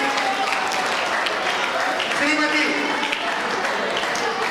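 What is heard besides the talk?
students clapping loudly in 1-2, 1-2-3 rhythm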